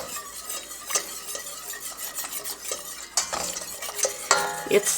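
A whisk scraping and stirring through a thickening roux in a pot for gumbo, a steady soft swishing with occasional metallic clinks against the pot, close and alone with no voices.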